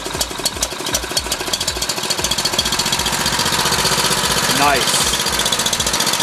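Gas emergency generator engine with a carburetor, recently repaired after a no-start fault, running steadily at a fairly loud, even idle under a brief spoken word.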